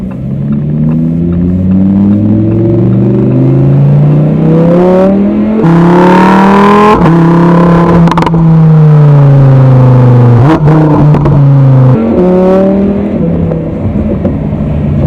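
A 2020 Lamborghini Huracan Evo in Corsa mode with manual shifting accelerates hard, its loud engine note climbing through several rising gear pulls with brief drops at each shift, close and continuous with no talk.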